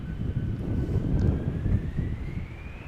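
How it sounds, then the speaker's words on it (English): Engines of a KLM Embraer 175 regional jet departing Amsterdam Schiphol for Aberdeen, a low rumbling rush with a thin rising whine, moderately loud and steady across a brief few seconds, mixed with some wind buffeting. "KLM to Aberdeen, Embraer 175."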